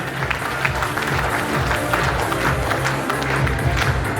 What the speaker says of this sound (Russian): Давайте же проводим их аплодисментами.